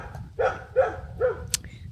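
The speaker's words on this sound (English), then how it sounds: "What's she barking at?" A female dog barks three times in a steady rhythm, fairly close and clear, with a quiet room murmur underneath.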